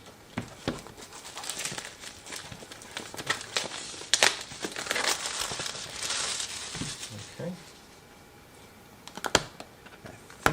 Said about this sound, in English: I'm basically just going to kind of cut through this little seal that we had back here